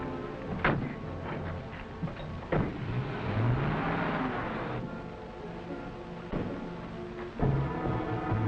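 A late-1930s car pulls away with a low engine rumble and several distinct thumps and clunks, the motor rising and shifting as it drives off.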